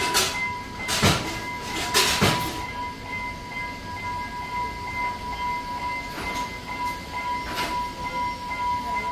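Udaya Devi Express train running, a continuous rumbling ride heard from inside with steady mechanical hum and a few louder rattling bursts early and later on, no talk.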